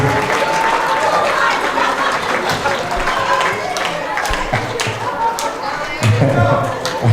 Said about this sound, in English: Give one more round of applause, you guys.